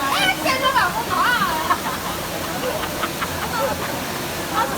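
Waterfall at Bukal Falls in Laguna, a steady rushing roar of falling water under excited voices and crowd chatter close by.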